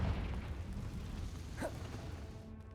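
A Confringo fire spell bursts in the game Hogwarts Legacy, starting with a dull rumbling boom that fades into a low roar, followed by a brief whooshing flare near the middle, then it trails off.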